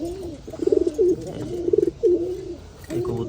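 Pigeons in a loft coo close by in repeated bursts of rolling, throaty calls, several phrases spaced through the clip with quieter gaps between them.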